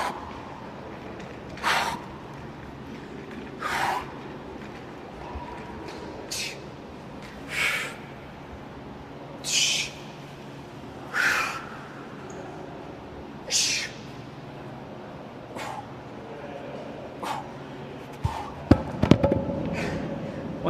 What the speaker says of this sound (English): you can really hear that breathing